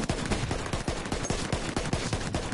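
Rapid bursts of video game shooter gunfire, including a sawn-off shotgun, crackle in a fast repeating rhythm of sharp shots, loud and continuous with no talking.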